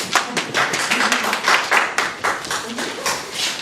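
Applause from a lecture audience welcoming a railroad history speaker, a steady patter of clapping hands filling the room for several seconds, fairly close and loud.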